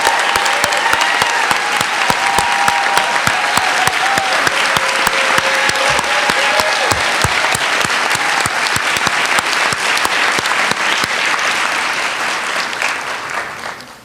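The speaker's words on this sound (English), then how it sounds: "Let's have an enthusiastic round of applause for everyone who is here to witness the passage of these graduates" Sustained, enthusiastic applause from a large audience at the 2019 graduation ceremony of the Oregon College of Oriental Medicine, a dense steady roar of clapping for about thirteen seconds before tapering off at the end.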